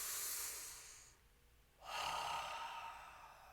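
A single deep breath close to the ear: a long airy inhale, a brief pause, then a slow full exhale, quiet and calm with no talking, during a morning stretching meditation.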